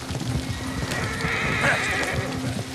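A horse in the Red Dead Redemption 2 video game whinnies loudly mid-clip while hooves clop in a quick rhythm beneath it, over a dense game soundscape.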